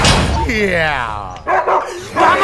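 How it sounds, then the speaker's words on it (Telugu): A dog yelps and whines in a drawn-out, wavering cry, then gives a few short barks close by, with voices mixed in. "కుక్క"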